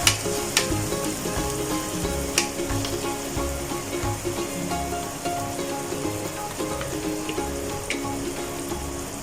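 Yogurt being stirred into a chicken kofta curry gravy over a very low flame, a steady soft sizzle with repeated scraping stir strokes and occasional sharper clinks, continuous and close with no talking.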